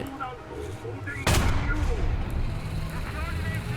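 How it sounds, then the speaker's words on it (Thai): An M41A1 tank's cannon fires in the War Thunder video game: one sudden, loud close-range blast, followed by a sustained low rumble and engine drone. A voice talks over the gameplay. "ทีนี้เราก็ยิงเขารัวๆได้"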